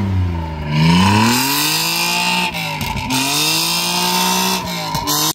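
A modified Toyota Mark 2 on the road gives a loud engine and exhaust note that climbs and falls through gear changes, with a droning tone rising, dipping and pulling again as it accelerates.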